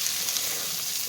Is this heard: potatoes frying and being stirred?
yes